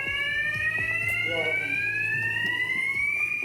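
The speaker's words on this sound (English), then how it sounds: "Can somebody come round and turn these bells off?" School fire alarm bells ring continuously with a steady, shrill electronic tone during a false alarm, while voices speak faintly underneath.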